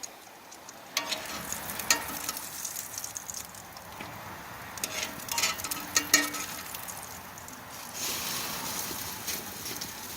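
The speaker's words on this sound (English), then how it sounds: "go to cook something like French toast with cast iron" French toast fries in a cast iron pan over an outdoor campfire, giving a steady close sizzle with occasional sharp pops, scrapes and clinks of metal utensils against the pan.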